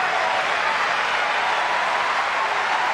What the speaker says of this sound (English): The rousing applause for the great man